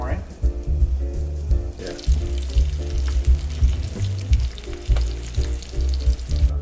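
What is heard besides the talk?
frying floured smelt in a pan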